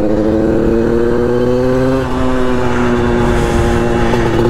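Small 50cc motorcycle engine revving under load as it's ridden, a loud, steady buzzing drone with harmonics that climb slightly as the revs rise, close and continuous throughout.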